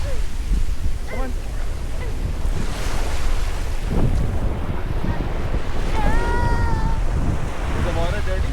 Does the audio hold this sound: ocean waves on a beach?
yes